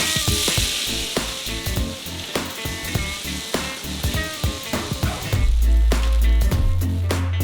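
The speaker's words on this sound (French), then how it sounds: "Il faut remuer tout le temps pour que les cacahuètes grillent uniformément." Raw peeled peanuts rattle and scrape in a pot over a gas flame as they are stirred constantly, giving rhythmic dry clatters with a light sizzle, close and fairly loud, and a low hum joins toward the end.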